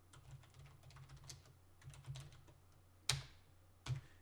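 Code being typed on a computer keyboard, a steady run of quiet close key clicks with two sharper, louder keystrokes near the end and no voices.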